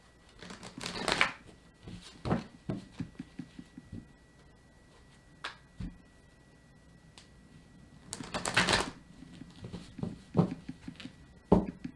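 Tarot cards shuffled in quick riffling bursts, with soft taps and handling noises between, close by and moderately loud, no talking.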